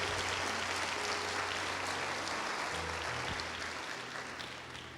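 Audience applause at a church family conference, a steady wash of clapping from a large crowd that gradually fades over a few seconds, with faint voices underneath.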